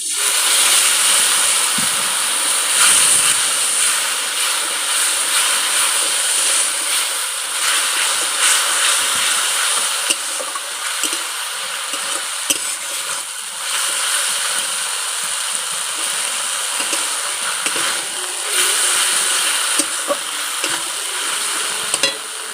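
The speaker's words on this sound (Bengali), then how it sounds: "অল্প একটু জল দিয়ে মশলাটা আমি নেড়ে নেব।" A spice paste with a little water and sugar is stirred in a hot pan for a spicy crab curry: loud continuous sizzling and hissing with spoon scrapes, close and sustained, no voices.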